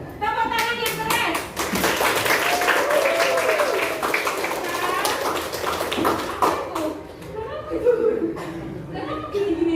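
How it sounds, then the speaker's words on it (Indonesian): A classroom of students claps hands loudly and continuously in a dense burst, with children's chatter and laughter mixed in throughout. "Tepuk tangan lagi yang keras."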